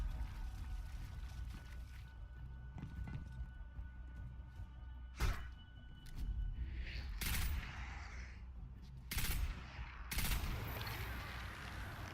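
Acolytes firing weapons in Destiny 2: sharp gunfire bursts crack out a handful of times over a low steady game ambience, with no talking.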